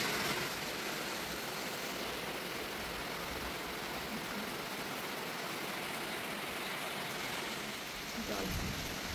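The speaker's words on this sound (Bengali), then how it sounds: "কত বৃষ্টি আমার এখানে।" Heavy rain falling steadily outdoors, a dense, even hiss of drops that continues without a break, fairly faint and distant.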